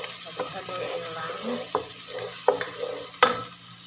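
Garlic frying in a pan for fish-head curry, a soft continuous sizzle with sharp spatula scrapes and knocks as it is stirred, fairly close; a voice speaks faintly underneath.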